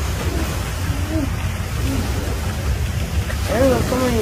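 Ocean waves in a video game with boats, a loud continuous low rumble of surf with a voice speaking over it briefly near the end.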